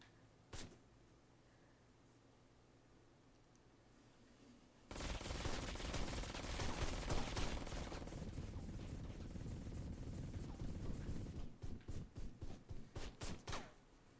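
Gunfire from a gun in the video game Ride to Hell: Retribution: a single early shot, then a long, loud, sustained burst of rapid automatic fire ending in a string of evenly spaced individual shots.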